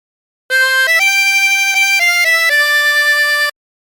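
A phrase of Oh My Darling Clementine on a 16-hole tremolo harmonica, about eight clear, steady wavering notes in a row, loud and close, with no talk.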